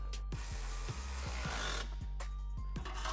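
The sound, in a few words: tightening the original exhaust hanger bolt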